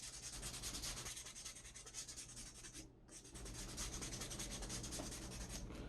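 Abrasive paper is rubbed steadily over a leather briefcase pocket in a soft, fast scratching rhythm, quiet and close, with one brief pause partway through.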